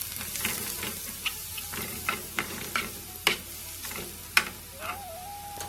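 Garlic and ginger sizzle softly in olive oil while being stirred, with irregular sharp scrapes and clicks of a utensil against the pan cutting through a low, steady fry.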